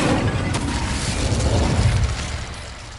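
A fire spell cast in Hogwarts Legacy sets off a loud, sustained whooshing burst with a low booming rumble that swells through the middle and fades near the end, with no talking.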